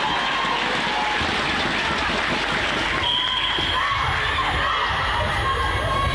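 Crowd at an under-17 netball match between Isle of Man and Malta cheering and shouting, with children's voices, a dense continuous roar of noise throughout.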